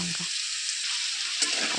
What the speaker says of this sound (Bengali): আলুগুলো ভাজছি, ভালো করে লাল লাল করে ভেজে নিতে হবে